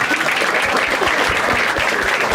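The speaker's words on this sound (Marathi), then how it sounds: "पण छान, एकदा टाळ्या होत्या याच्यासाठी." Loud, continuous clapping from a group during a playful roleplay, a dense, even patter of hands with no voices.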